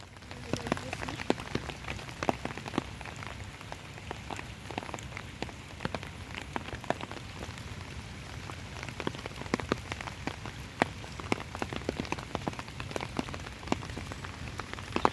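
Steady rain falls on a village, a constant patter with sharp drip taps scattered across the whole stretch, while people speak quietly now and then.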